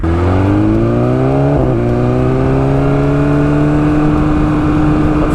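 A Bren-tuned 2020 BMW S1000RR sportbike accelerates hard through a pull, its loud, close engine note rising steadily in pitch with a brief break near a gear change, then climbing again without talk.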